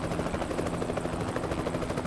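A helicopter's steady rotor thump and engine roar fill the scene in Euro Truck Simulator 2, a continuous, loud, close drone with a rapid pulsing beat and no voices.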